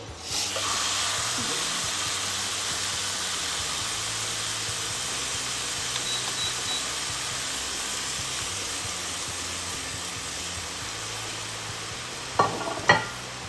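Chicken leg pieces frying in a small amount of oil in a pan on a gas stove give a steady, close sizzling hiss throughout, with a couple of brief clatters near the end.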